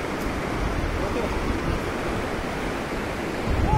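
The Khoplang river rushes along in a steady, broadband roar of flowing water, close and continuous, with no let-up from start to finish.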